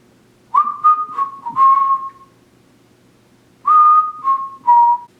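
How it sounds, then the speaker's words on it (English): A person whistles clear, steady tones in two bursts: a run of four connected notes, a pause, then three more notes, fairly close and loud with no talk. "Maybe the biggest accomplishment of this last year for me was learning how to whistle."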